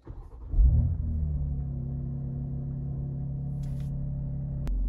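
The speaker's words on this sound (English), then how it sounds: "Let's get the car out on the road and go for a drive." BMW X3 M Competition starting off onto the road, a deep steady engine rumble that swells briefly then settles into an even drone, close and without talk.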